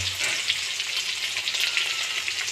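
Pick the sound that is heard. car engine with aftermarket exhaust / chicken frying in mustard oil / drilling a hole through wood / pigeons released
chicken frying in mustard oil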